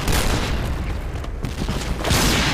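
A grenade goes off in the Point Blank shooting game, a loud, dense roar that lingers with rumbling bursts, then swells again toward the end.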